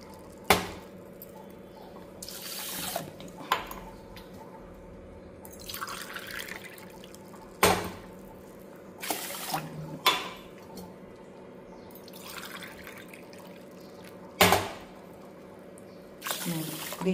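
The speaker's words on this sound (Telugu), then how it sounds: "ఇప్పుడు ఇందులో నేను 3 గ్లాసెస్ ఆఫ్ వాటర్ అయితే పోస్తాను." Water is poured from a glass into a cooking pot of washed rice in a home kitchen: several separate splashing pours with sharp knocks and clinks of kitchenware between them, close and moderately loud over a low steady background hum.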